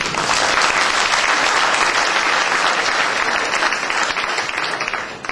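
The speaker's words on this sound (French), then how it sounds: "Ça s'applaudit, non?" Audience applause fills a company meeting hall, dense and steady from start to finish, loud and close, with no voices over it.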